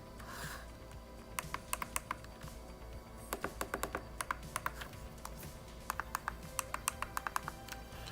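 An Anbernic RG552 handheld gaming device has its clicky top L and R buttons and recessed, clickable analog sticks pressed repeatedly, making crisp, close plastic clicks in irregular quick bursts over a steady low background hum, with no voices.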